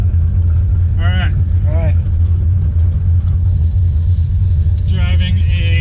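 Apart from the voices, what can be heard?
1968 Ford Mustang Fastback with 351 Windsor engine driving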